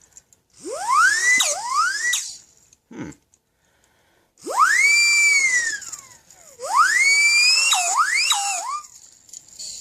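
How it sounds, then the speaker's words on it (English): A 1988 Nasta toy muffler siren whistle blown in three bursts, each giving a warbling, sliding shriek with a raspy, ratcheting edge, loud and close with pauses between. "every kid wants to have a muffler whistle"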